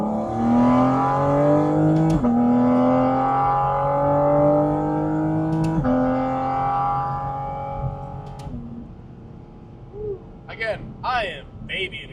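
A sports car engine pulls hard at partial throttle, rising in pitch through several gear changes and then easing off, loud and close, with brief voices near the end.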